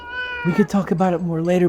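A cat meows several times in quick succession, close and clear, while a person's voice talks over the calls.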